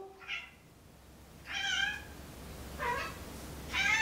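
A cat meows four times in short, wavering cries, close and clear over a faint steady background hum.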